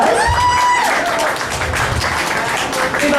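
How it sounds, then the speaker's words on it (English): Audience at an open meeting in a cantina applauds a newly introduced executive director, steady clapping filling the room alongside crowd chatter and a whistle-like tone near the start. "Everybody give her a round of applause."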